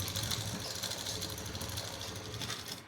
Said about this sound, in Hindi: ऐसे सिलाई लगाएंगे, सीधी सीधी सिलाई लगाएंगे इसकी